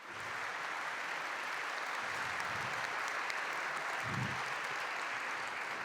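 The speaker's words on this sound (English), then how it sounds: "I want to really, one more round of applause for the panel." An audience at a panel event gives a long, even round of applause, a steady mass of clapping that never pauses, with faint low murmurs underneath.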